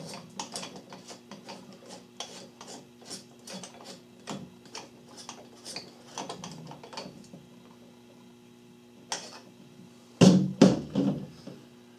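A tool tightens the barrel nut on a VZ-26 rifle being converted to 9mm, a quick series of close, sharp ratcheting clicks in an uneven rhythm, followed by a few louder metallic clanks near the end.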